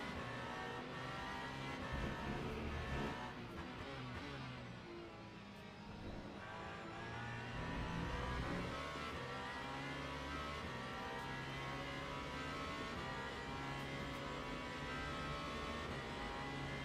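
An onboard race car engine at Interlagos in a sim racing game drones loudly and steadily, its pitch rising and falling through gear changes and a brief lift around the middle, with no talk over it.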